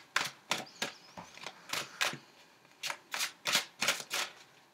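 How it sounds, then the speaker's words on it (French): Tarot cards are shuffled and drawn by hand, a quick series of about a dozen crisp, close flicking snaps in an irregular rhythm, quiet and alone. "on va tirer peut-être une autre carte"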